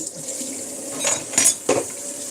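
Dishes, pots and cutlery clink and clatter in a kitchen sink, with a few sharp knocks over a steady wash of running water, heard close with no talking.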